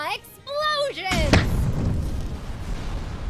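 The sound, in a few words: explosions in the video game Regalia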